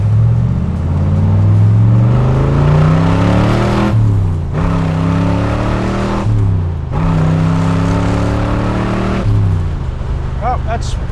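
A 1966 427 big-block engine in a convertible revs up again and again toward 5,500 RPM, with loud, close rising sweeps broken by brief drops between pulls, and someone speaking over it.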